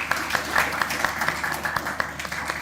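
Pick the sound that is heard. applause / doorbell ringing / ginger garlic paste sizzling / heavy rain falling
applause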